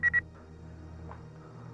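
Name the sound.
telephone dialing tones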